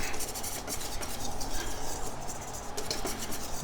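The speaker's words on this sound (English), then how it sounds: "So just kind of mix these up a little bit" Chicken wings being mixed through a thin batter in a bowl give a steady, close wet stirring and sloshing with faint clinks, continuous for a few seconds with no talking.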